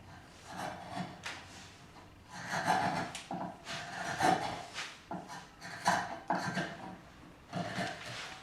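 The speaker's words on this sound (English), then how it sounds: "Now, I do as much as I can with the chisel." A chisel pares and shapes the wooden heel of a guitar neck, close scraping strokes in repeated bursts with short pauses between them, no voice over it.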